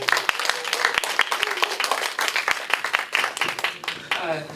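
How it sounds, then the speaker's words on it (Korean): Audience at a Korean environmental lecture claps to welcome the lecturer, scattered sharp hand claps blending into lively applause, with some voices mixed in. "박사님을 박수와 함께 모시도록 하겠습니다."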